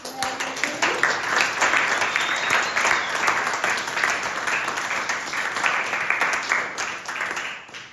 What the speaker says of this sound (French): un applaudissement pour Gaëlle qui m'a accompagnée.